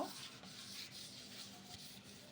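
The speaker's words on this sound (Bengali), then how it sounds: "বাটিটা ভালোভাবে মুছে নিব" Steady soft rubbing, a cloth wiping around a bowl, continuous and fairly quiet with faint rhythmic strokes.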